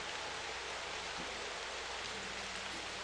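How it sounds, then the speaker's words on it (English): Steady rain sound effect used as ambience in a tabletop game session, a dense even hiss of falling rain with no breaks, fairly faint and continuous throughout. "Oh, there's rain right there."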